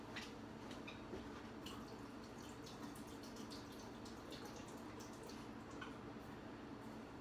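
Faint, steady trickling and splashing of water drains through a strainer into a sink as dollar-store soup is strained, with scattered drips and no talking.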